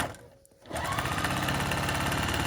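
A sewing machine stitches quilt block pieces after a brief quiet pause, then runs in a fast, even mechanical whir with a rapid needle rhythm, near and steady.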